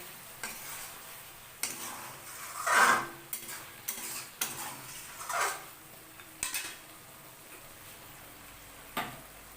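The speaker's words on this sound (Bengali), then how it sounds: "এবার সবগুলো আবার উপর থেকে নিচে অবধি মিশিয়ে গ্যাসটা বন্ধ করে দেব।" Chilli fish stirred and tossed in a pan on a gas stove, with a spatula scraping and clinking against the metal in irregular close strokes amid a faint sizzle, no voices.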